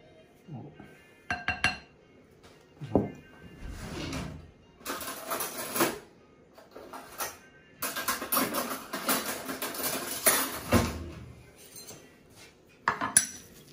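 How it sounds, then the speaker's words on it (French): Fresh cheese and honey being mixed in a bowl with a spoon, giving irregular close clinks and scrapes of metal against the dish in short bursts, with occasional pauses. "Voilà, on mélange bien avec le miel."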